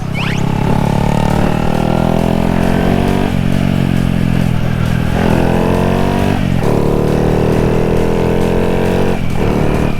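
A Honda Wave 110i motorcycle being ridden, its small engine droning loud and steady throughout, with the pitch rising and falling as the rider shifts and revs.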